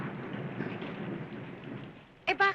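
Steady rain falls in a Filipino movie scene, a soft, even hiss that thins gradually before a short, louder burst of sound at the very end.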